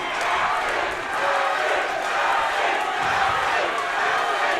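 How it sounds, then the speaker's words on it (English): A crowd roars and cheers at an MMA fight at XFC 53, a sustained wash of loud arena noise swelling and falling over several seconds. "And the crowd is going absolute crazy."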